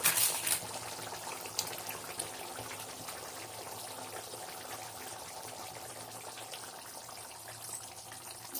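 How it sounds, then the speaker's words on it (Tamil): Fish curry simmers in a pot partly covered with a plate, giving a steady bubbling hiss with a brief louder burst at the start and no talking. "நல்லா கொதிக்குது."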